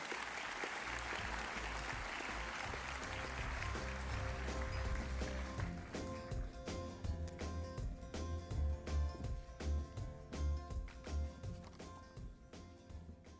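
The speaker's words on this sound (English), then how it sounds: "Let's have a round of applause as we welcome Craig" An audience at a stormwater conference applauds a keynote speaker, a dense wash of clapping for about six seconds, then fading into sparse claps and footsteps as he comes forward.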